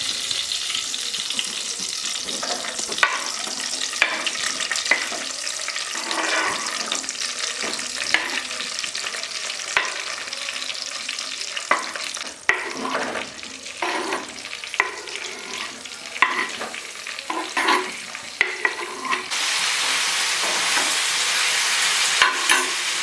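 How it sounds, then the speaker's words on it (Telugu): Red chillies and tomatoes fry in oil for a village-style chutney, giving a loud, continuous sizzle with scattered pops and stirring clinks, heard alone throughout. "మూత పెట్టేసుకోండి ఇది బాగా ఫ్రై అయిపోతుంది"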